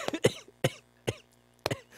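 Four harsh, close coughs from one person in quick irregular bursts, separated by brief silences, loud and dry.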